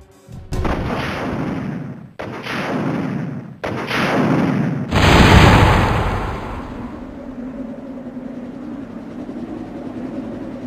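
A cannon fires four loud, booming shots at the Tyrant in Resident Evil, each blast ringing out before the last and biggest one rolls into a long, fading rumble.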